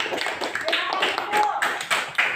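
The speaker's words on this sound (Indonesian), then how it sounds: "beri tepuk tangan Nak buat kelompok satu" Students in a classroom clap for a group that has just finished presenting, brisk overlapping hand claps with children's voices mixed in.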